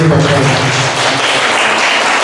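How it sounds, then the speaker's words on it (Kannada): An audience claps through an award ceremony in Bengaluru for the National Humanity and Peace Award 2024, honouring a singer; dense, loud, steady applause with a voice speaking briefly at the start. "ಎಲ್ಲರೂ ಚಪ್ಪಾಳೆ ಹೊಡಿಬೋದು"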